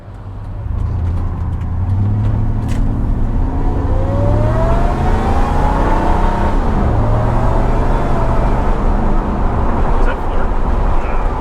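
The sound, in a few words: supercharged Ford Harley-Davidson pickup truck driving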